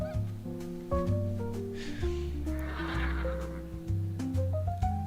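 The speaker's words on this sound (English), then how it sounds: "I want them to keep the mailboxes making horse noises" In the online game Turtle WoW, a mailbox gives a horse's neigh and whinny, loud and close over a backdrop of game music.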